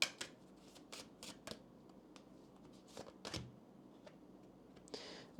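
Oracle cards are shuffled for a tarot reading with crisp, repeated riffling snaps and soft slides of card stock, close and fairly loud, in irregular bursts.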